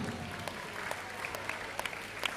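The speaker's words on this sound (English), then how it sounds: "So let's give a big round of applause." Applause from the crowd at a basketball match between 新山光辉 and K.L Red Baron, welcoming the referees; steady, fairly faint clapping through the whole stretch with a few sharper claps standing out.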